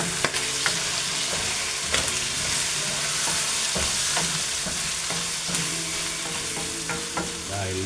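Pork adobo fries in garlic and vinegar in a pan, giving a steady loud sizzle with crackling splatters and occasional stirring scrapes, close up and continuous.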